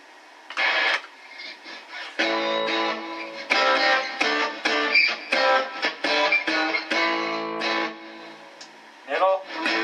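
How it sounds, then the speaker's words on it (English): Distorted electric guitar from a Stratocaster with an Alnico IV pickup played through a Boss DS-1 distortion pedal with a diode mod, in short strummed chords and picked bursts separated by brief pauses. "distortion Boss DS1 with the diode mod."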